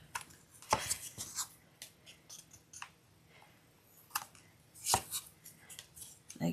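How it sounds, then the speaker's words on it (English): Scissors snip around dried glue webs for a fake apple pie, giving a few sharp, close cuts in irregular bursts with quiet pauses between them and no talking. "you're gonna get your scissor, and you're just gonna go like this. And cut around"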